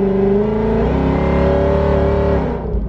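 A Ford Mustang engine with a modified VMP Odin supercharger revs up and holds a high, steady pitch with a supercharger whine riding on top, then drops off near the end.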